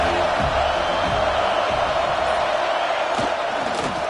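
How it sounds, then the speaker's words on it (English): A stadium crowd roars throughout a football game between Kingz and Notre Dame, a dense, loud, sustained wall of cheering with no clear breaks. "This crowd bringing an ear-splitting welcome to their visitors."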